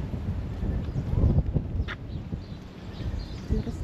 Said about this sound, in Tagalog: Lakas lang ng hangin guys.